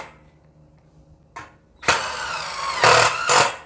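A Mollar 12 volt cordless impact driver, model CIDR12150U, runs in loud bursts: a short blip, then a sustained buzzing rattle with two stronger surges near the end, close to the mic.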